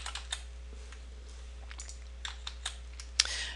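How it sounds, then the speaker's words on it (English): Light clicking on a computer keyboard, a few soft scattered taps and then a sharper keystroke near the end, faint over a steady low electrical hum in a quiet room. "I'll type VV."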